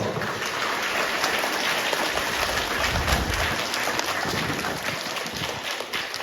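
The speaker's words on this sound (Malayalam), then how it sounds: "നല്ലൊരു കയ്യടി കേട്ടോ" Children at a school bag distribution inauguration in Attappadi clap together in a dense, continuous patter that holds steady and then thins slightly toward the end.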